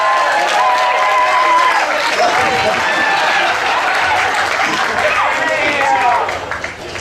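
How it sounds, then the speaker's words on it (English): A live audience at a pun competition claps for two contestants, a full, sustained burst of applause with some cheering and voices mixed in, fading slightly in the last second. "let's have an applause for the two best dressed contestants right here"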